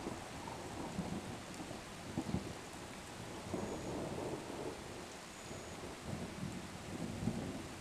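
Steady rain pours during a thunderstorm, with low rumbles of thunder rolling beneath the hiss throughout, no voices heard.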